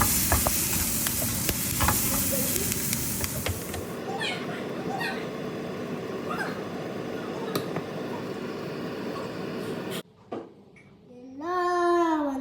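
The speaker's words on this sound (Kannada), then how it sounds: "ಈಗ ನಾನು ಬಟರಲ್ಲೇ ಎಲ್ಲ ಹುರ್ಕೊಂಡು ಬಿಡ್ತಾ ಇದ್ದೀನಿ ಈಗ ನೋಡಿ ಚೆನ್ನಾಗಿ ಫ್ರೈ ಆಗಿದೆ" Food fries in butter in a pan with a busy hiss and stirring for the first few seconds, then the sizzle drops to a quieter background while a cat meows and someone speaks nearby.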